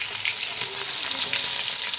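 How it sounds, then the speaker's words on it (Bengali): Lady finger fish pieces frying in hot oil with a steady, even sizzle and light crackle, heard close and alone for about two seconds. "এইভাবে আমি 4 পিস মাছ দিয়ে দিয়েছি, ভালো করে লাল করে ভেজে নেব।"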